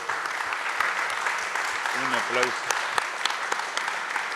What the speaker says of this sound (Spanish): un aplauso para los dos disertantes